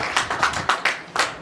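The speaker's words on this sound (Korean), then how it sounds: "여러분 박수로 한번 격려해 주시죠" An audience at a Christian business group's evangelism lecture gives short bursts of clapping, loud and close. The claps come in uneven, quick clusters with no voices over them.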